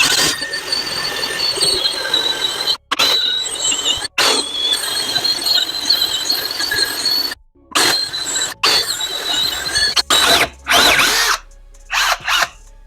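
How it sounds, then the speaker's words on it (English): Bosch GSR12V-300 cordless drill with an angle attachment boring a hole through a stud, whirring loudly in long bursts broken by brief stops and a few short trigger pulls near the end. "So what we have here is a left angle setup. We make a hole in the stud."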